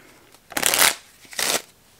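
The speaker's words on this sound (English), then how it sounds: "we will just put the ace back in the deck and shuffle" A deck of playing cards being shuffled up close, two quick riffling bursts separated by a short pause, with no talking.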